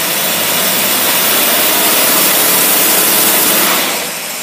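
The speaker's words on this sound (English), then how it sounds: "That bumping you heard is the rev limiter kicking in." An engine fitted with a rebuilt 600cfm manual-choke carburetor roars loud and steady at high revs against the rev limiter, then eases off near the end.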